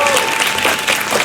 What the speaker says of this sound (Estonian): Teeme suure aplausi Sonjale, teeme suure aplausi Mariale.